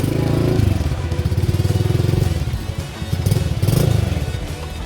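A 2022 Kawasaki KLX110R small dirt bike engine runs close by, a loud buzzy single-cylinder putter that rises and falls with throttle blips.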